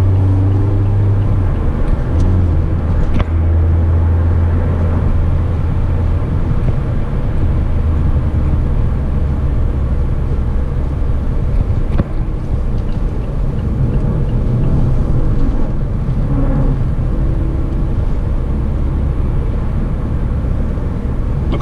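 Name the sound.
Mazda MX-5 engine heard from inside the car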